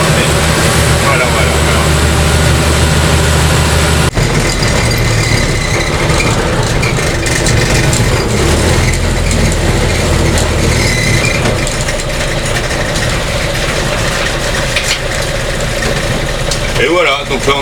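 A car engine idles with a steady low rumble, then the tone shifts as the ignition is switched off, leaving a busier, noisier background.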